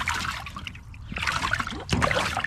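Water sloshing and trickling inside a sinking bass fishing boat that has flooded like a livewell, a steady close wet churning with a louder splash near the end.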